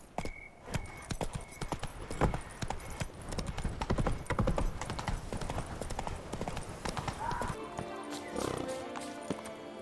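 A horse's hooves clip-clop steadily in the video game Witcher 3, a brisk close rhythm of hoofbeats at an even volume throughout, with a brief snort or whinny near the end.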